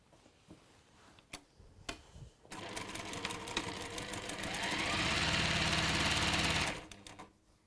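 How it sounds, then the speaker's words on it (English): A sewing machine stitches along fabric, first in a few short bursts, then running in a fast, steady whir that builds to a sustained loud run before stopping abruptly. "pop that center to center and just stitch along here"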